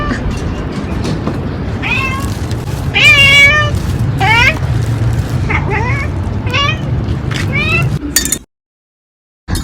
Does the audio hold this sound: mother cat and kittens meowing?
yes